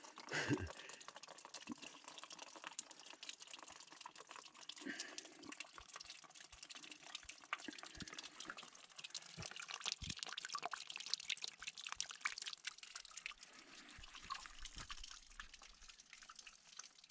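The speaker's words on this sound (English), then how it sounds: "Can hear the water running." Running water trickles and gurgles faintly but steadily along a stream on a hiking trail in Nightcap National Park, with scattered crunches and rustles over it.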